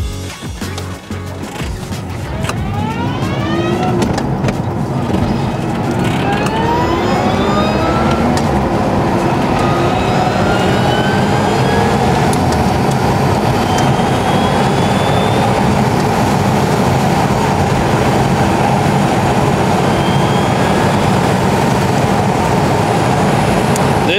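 An EV-swapped Porsche 911 G-body accelerating at full torque in fifth gear: a loud, steady broadband rush of road and wind noise with rising whine tones sweeping upward throughout, no engine note and no talk.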